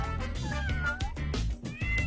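A video game cat meows repeatedly in short, whiny, crying calls, loud and close, with brief pauses between cries.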